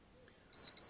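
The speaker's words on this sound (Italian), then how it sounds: "sentite l'apparecchio emette un beep" A thin, high electronic beep from a digital infrared laser thermometer repeats two or three times in quick succession over a quiet background, close and clear.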